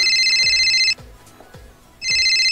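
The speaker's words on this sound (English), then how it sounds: "Rhys, do I hear the phone line going off?" A telephone rings in two bursts of bright electronic trilling separated by a pause of about a second, loud and close, with a low rhythmic beat underneath.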